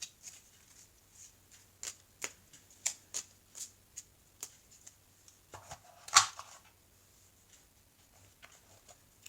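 Oracle cards being shuffled and handled, a run of soft rhythmic flicks and riffles with a sharper snap near the end, close and quiet, with a low background hum.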